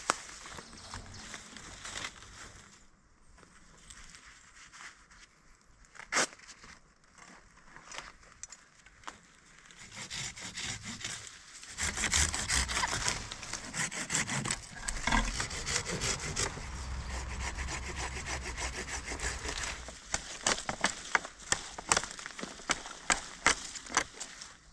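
Wooden poles cut by hand with a saw in the woods, no chainsaw used, giving a long stretch of steady rasping strokes that grow louder and denser partway through, close to the microphone.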